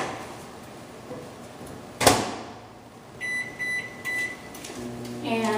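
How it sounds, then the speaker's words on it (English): A microwave oven melting margarine: a door clunk, then the low hum of the running oven and a series of electronic beeps, heard close and moderately loud. "We're going to put it in a microwave-safe container and melt it."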